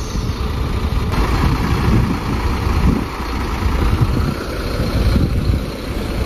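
Rumbling mid-pitched diesel idle of a new bus's rear engine with the hood open, on a trip into Jambi on an ANS Luxury Class coach with a Jetbus 5 body, steady and close throughout with no talking.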